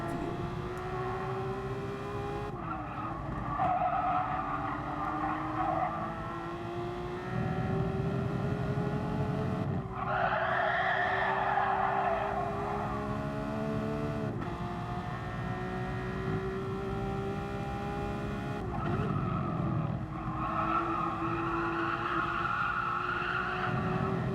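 Street cars racing on a track, heard from onboard car 750: a steady loud engine drone rising and falling through gear changes, with another car's engine swelling past nearby.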